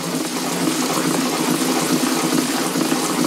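Tap water running steadily in a loud, continuous rushing stream, close up, with no pauses.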